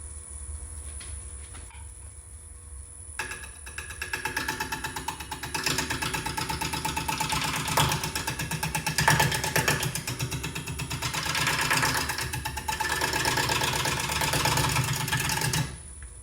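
A wood lathe spins up while a pecan bowl is being turned: quiet at first, then a steady motor hum with a scraping cutting texture starting after a few seconds and running continuously, close and fairly loud.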